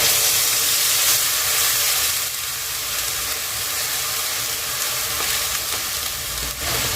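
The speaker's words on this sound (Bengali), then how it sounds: "পেঁয়াজটা একটু লাল লাল করে ভেজে নিতে হবে।" Ground onion paste sizzles and fries steadily in a pan over low flame, a continuous broadband crackle and hiss with occasional stirring scrapes, close and alone without any voices.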